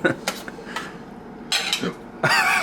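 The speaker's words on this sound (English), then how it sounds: "Stir it to get the burn off the bottom." A spoon stirs a pot of food, scraping along the bottom in a few clinking, scratchy strokes, close by, with louder scrapes toward the end and a voice faintly in the background.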